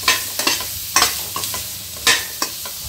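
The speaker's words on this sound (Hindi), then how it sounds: "हमने 3 से 4 मिनट तक प्याज को पकाना है। और ये जो मसाला बचा हुआ था हम प्याज में डाल देंगे" Onions sizzle and fry in a pan with masala for bitter gourd stuffing, while a spoon stirs and scrapes at irregular intervals over a steady close hiss.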